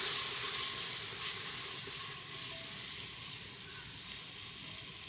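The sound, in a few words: ginger garlic paste frying with browned onions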